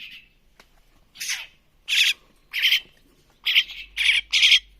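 Young mynah birds being hand-fed give about six loud, harsh squawks in short bursts close by, the later ones coming in quicker succession.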